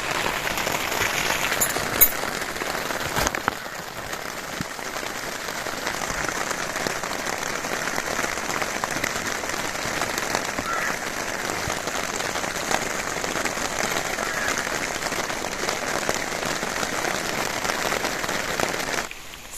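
Rain falling at a riverside group campsite at night, a steady dense patter of drops on surfaces with a few sharper taps, even and continuous throughout.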